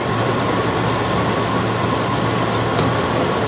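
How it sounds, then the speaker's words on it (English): A car engine idles during an idle vacuum test, giving a steady, continuous mid-pitched drone that stays even and close throughout, with no voices. "The next vacuum test will be the idle vacuum test."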